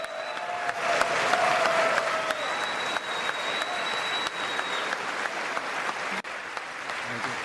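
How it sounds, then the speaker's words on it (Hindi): Members of the US Congress give a standing ovation, sustained dense applause from a large crowd in a big chamber that carries steadily throughout with a faint murmur of voices. "अमेरिकी सांसद भी स्टैंडिंग ओवेशन देते हुए दिखाई दिए"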